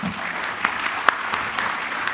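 A forum audience gives a round of applause, a steady wash of clapping throughout with a few sharper individual claps standing out, fairly close and continuous with no talk over it.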